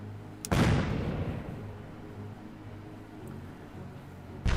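Naval gunfire in the video game Battle Fleet 2: one loud booming shot with a long rumbling decay, followed by the start of another blast at the end, with no talking.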